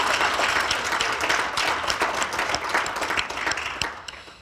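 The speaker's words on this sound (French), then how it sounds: "Je demande un applaudissement pour eux" An audience at a talk by guest authors breaks into steady applause, dense clapping filling the room at close range before it thins and fades toward the end.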